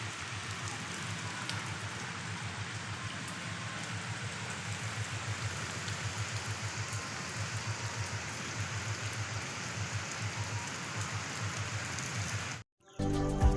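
Rain falls during an outdoor village Ganesh puja gathering as a steady, soft hiss of drops. It continues evenly before cutting off briefly near the end.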